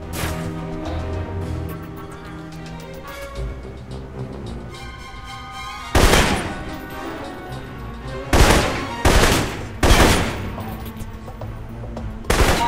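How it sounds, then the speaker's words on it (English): Assault rifle fire in a video game, loud bursts of shots at intervals over a steady background of game ambience and music, with no speech. "For long-range encounters, the assault rifle's the key. It's accurate, powerful."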